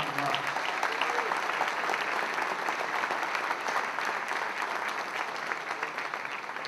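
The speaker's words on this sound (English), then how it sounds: "How about standing up and give a nice round of applause for the owner of the Brockton Rocks?" A banquet audience at a Brockton Rox minor league baseball hot stove dinner gives a sustained round of applause for the team's owner, dense steady clapping filling the hall with a faint murmur of voices.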